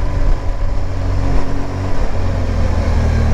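A motorcycle fitted with a BoosterPlug rides at low speed in second gear with the throttle on. Its engine gives a loud, steady rumble mixed with wind noise throughout.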